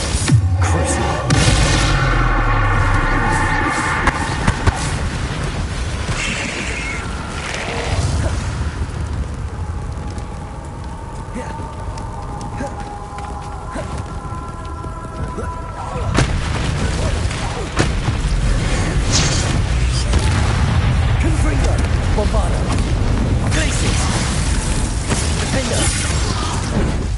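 Spell explosions and magical blasts from the video game Hogwarts Legacy, with repeated loud booms and bangs crackling over a dense, continuous combat din and game music throughout.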